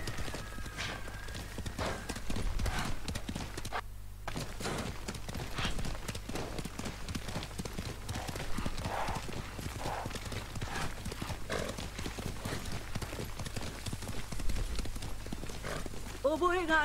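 Horse hooves clip-clop rapidly in a fast ride in the video game Ghost of Tsushima, a steady rhythmic patter mixed under game music and speech throughout, with a brief whinny possible.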